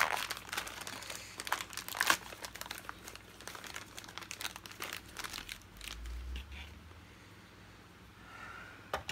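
Plastic bag crinkling around a brand-new Hoover Purepower U3450 vacuum foot pedal, with close, irregular rustles and crunches that come in bursts and then settle to quieter handling noise.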